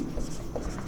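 Chalk or marker writing on a classroom board during a Class X trigonometry lesson, a steady scratchy stroke sound running throughout the short moment with no talk over it.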